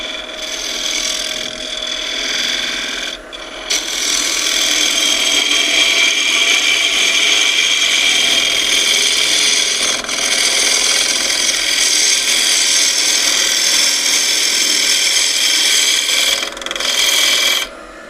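Freshly sharpened bowl gouge cutting a live edge oak bowl spinning on a lathe, a steady, loud, close scraping hiss that carries on almost unbroken, with a couple of brief dips as the tool lifts.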